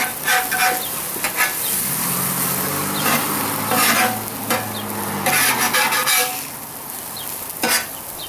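Chorizo fries on a Blackstone 17-inch propane griddle, a loud constant sizzle punctuated by sharp metallic spatula scrapes and taps as the meat is flipped, with a low engine-like hum from the burner underneath.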